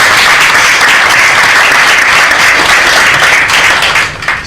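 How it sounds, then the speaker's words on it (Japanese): A large audience at a Ganesh Chaturthi celebration in Tokyo breaks into loud, dense, sustained applause, a continuous roar of many hands clapping that holds steady before tapering off at the close. "拍手を送ります"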